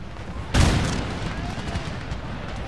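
Musket fire in the Empire Total War battle game, with one loud boom and then a rumbling, crackling volley that fades under steady background noise.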